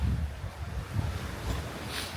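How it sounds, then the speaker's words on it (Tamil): Ocean waves wash onto a beach on an island shore in a steady low rumble, with gusty wind buffeting the microphone throughout and no voices. "கடல் கொஞ்சம் அலையாக இருக்குது"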